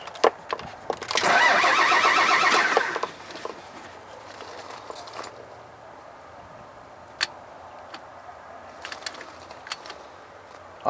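Isuzu Sitec diesel engine cranking over during an attempt to start it after bleeding the fuel system, a loud steady churning burst of about two seconds, then faint ticking and clicking.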